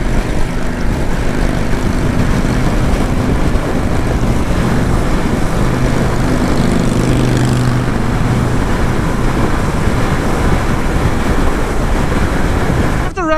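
Harley-Davidson LiveWire electric motorcycle riding on the road, steady loud wind rush and broad road roar throughout with a faint motor hum underneath, no clear engine pulses, ending with a brief rustle.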